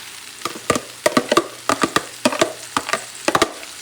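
Clam meat, mussel meat and squid fry on a sofrito for Spanish seafood rice, with quick bursts of spatula scraping and stirring over a low sizzle, close and rhythmic in short clusters.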